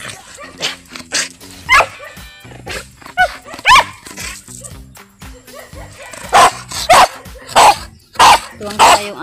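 A dog barking near a river, loud and close, with a string of sharp repeated barks and yips, some whimpering between them and denser bursts toward the end.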